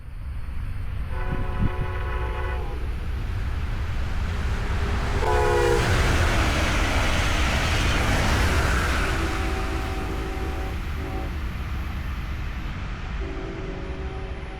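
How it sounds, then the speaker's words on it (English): A Brightline four-coach train wrapped for Royal Caribbean passes with loud horn blasts, first a long series and then a short burst mid-pass, over a rising, roaring rush of wheels, then more horn toots as it recedes. "A 4-coach train, wrapped for Royal Caribbean's new Legend of the Seas ship,"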